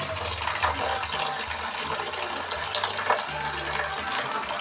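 Dirty brown water runs from a tap in Manila as a steady close splashing gush, with no talking.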